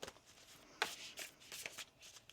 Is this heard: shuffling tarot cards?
yes